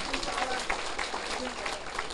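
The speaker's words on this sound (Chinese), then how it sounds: "好，甲拍手者。" An audience at a lecture hall seminar breaks into fairly faint, sustained clapping that runs across the whole moment, mixed with murmuring voices in the room.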